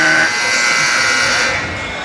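A voice imitates a buzzer with a sustained, harsh, nasal drone lasting about two seconds, steady and loud, tapering off slightly at the end.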